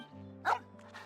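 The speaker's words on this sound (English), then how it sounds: "Little puppy." A single short puppy bark from a PC video game, one quick yelp rising over a steady low background hum, alone without talk.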